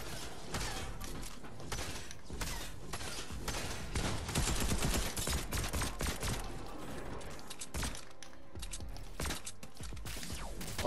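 In a Fortnite Battle Royale match, fairly quiet gunfire rattles in quick, dense shots with mechanical clatter as bullets hit the player.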